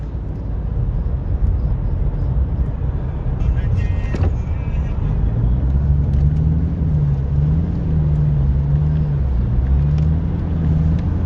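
A motorcade of cars carrying a chief minister rolls along a motorway in Lahore, a steady broad rumble of engines and tires with a rising and falling horn-like tone partway through, and a voice talking over it.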